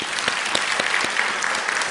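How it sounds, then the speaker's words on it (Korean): Church audience applauding, a short burst of brisk, dense clapping from many people, close and loud, with no talking. "우리 다시 한번 박수합시다."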